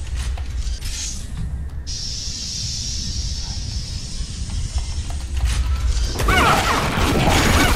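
A door mechanism grinds and hisses open in a video game, a steady mechanical whir building into a louder rattling clatter toward the end.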